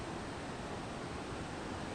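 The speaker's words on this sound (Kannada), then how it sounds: "ಕೆಳಗಡೆ ಫುಲ್ ರಿವರು" Steady broadband rushing of a river flowing far below a suspension footbridge in Bhaktapur, Nepal, a constant unbroken roar with no voices.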